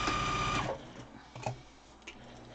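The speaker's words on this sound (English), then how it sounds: "I quit just before I finished sewing over that." A sewing machine stitches a fabric face mask in a brief loud, steady burst that stops after well under a second, followed by faint handling clicks and a quiet room.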